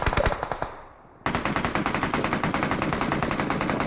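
Shotgun fire in a competitive multiplayer shooter video game: loud, closely spaced blasts, a brief lull, then another sustained run of rapid, evenly repeated shots.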